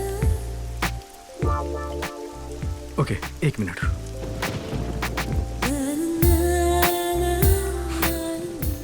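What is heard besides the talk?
rain falling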